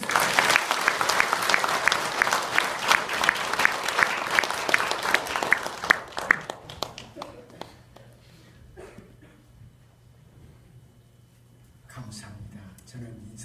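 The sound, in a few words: congregation applause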